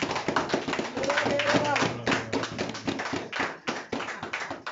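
A church congregation at a morning service claps and cheers in praise, with rhythmic hand claps under lively shouting and speech throughout.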